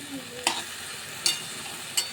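Three sharp scraping stirs in a wok, spaced apart, over a low steady sizzle of water spinach greens cooking.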